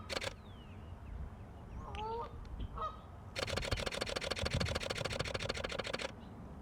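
Goose at a pond, a few loud nasal honks early on, then a long stretch of rapid camera shutter clicking over outdoor ambience.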